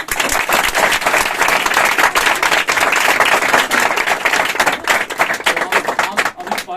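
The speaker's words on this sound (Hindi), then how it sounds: "सबसे पहले इन लोगों के लिए जोरदार ताली" A loud, dense burst of applause fills an awards ceremony honouring first-division students of the 2025 Bihar Board matric exam. Clapping runs continuously at close range, with voices mixed into the crowd.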